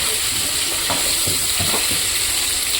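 Chopped tomatoes, mustard seeds and cumin cooking in hot oil for a Gujarati cauliflower-potato curry, giving a steady, close, loud sizzle with a few soft stirring scrapes and no talking.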